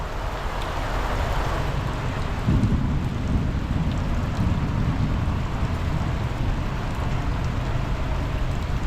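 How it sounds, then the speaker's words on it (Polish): Steady heavy rain falling during the rainy season in Chiang Mai, Thailand, a loud, constant hiss of rain on surfaces with a low rumble swelling underneath partway through, and no voices. "no i znowu pada"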